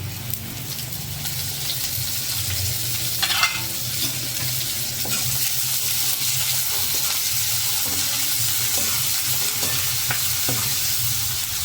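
Shredded cabbage stir-fries in a hot pan, a steady sizzle broken by scraping stirs and occasional clinks.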